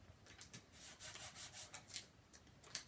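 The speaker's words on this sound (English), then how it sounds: "Now I'm going to burnish it." Paper flaps of a handmade photo folio page being burnished down with a tool, giving a series of soft, close rubbing strokes in an uneven rhythm, with no voice present.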